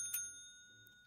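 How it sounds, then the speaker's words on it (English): A reception desk bell rings once in the Hotel Business Simulator game, a single bright ding with a sustained shimmering ring that fades over a quiet, low background. "then we can rent out the rooms so I can they can stop ringing that damn bell"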